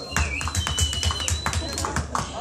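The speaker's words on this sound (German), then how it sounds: "Der Applaus, der ist jetzt für euch, von uns." Audience applause at a rap concert in Cologne, steady loud clapping and tapping from a crowd throughout, with a voice and a whistle-like tone riding over it.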